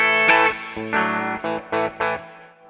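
Electric guitar played clean through a Two-Rock Bloomfield Drive amp on the bridge pickup: a ringing struck chord followed by several short, punchy chord stabs with small gaps between them, close and fairly loud, the last one fading out.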